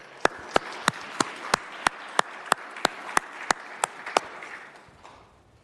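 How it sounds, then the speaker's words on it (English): A round of applause breaks out in a city council chamber at a public meeting, sharp regular claps sounding like a few people clapping in steady rhythm, fading out after about four seconds. "Let's give you a round of applause."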